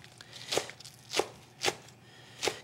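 A knife chops green onion tops on a board in four crisp, evenly spaced strokes, close and distinct against a quiet background.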